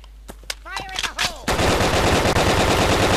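Sniper and assault rifle gunfire in the video game BrickForge: a few sharp, separate shots, then a loud, dense burst of rapid continuous fire that carries to the end.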